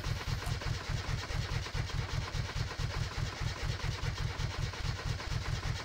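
A car engine in the video game My Summer Car turns over with a steady, rapid mechanical pulsing, cranking or rough idle, moderately quiet and continuous, with no voices over it.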